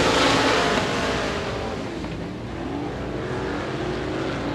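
Modified race cars roar around the Devils Bowl Speedway oval in a limited modifieds race, a loud steady engine drone with a slight fade and swell as the pack passes.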